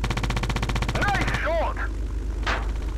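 Rapid machine gun fire in a WWII air combat video game, a steady stuttering burst of shots with engine drone and a brief whine, loud and continuous.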